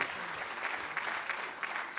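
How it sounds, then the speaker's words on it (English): An audience at a manufacturing summit in Mumbai claps in a full, steady round of applause, dense and even throughout, with a few sharper bursts standing out. "Let's give him a huge round of applause"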